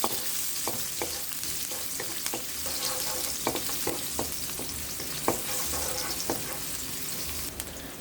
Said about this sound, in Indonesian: lalu tumis bawang merah